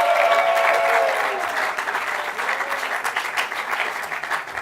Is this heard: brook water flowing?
no